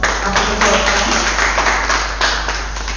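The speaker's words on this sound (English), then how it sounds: "Audience, please give them a huge round of applause after the first round." Audience applause at a quiz competition after the first round, a steady wash of clapping from many hands filling the whole moment with no speech over it.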